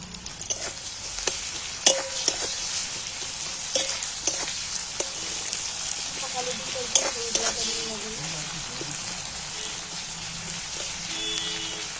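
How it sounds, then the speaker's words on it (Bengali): Chopped onions with a pinch of salt frying in hot oil and being stirred, a continuous crackling sizzle with intermittent spatula scrapes and clicks, close and moderately loud. "পেঁয়াজটা নাড়াচাড়া করতে করতে লাল হয়ে গেছে।"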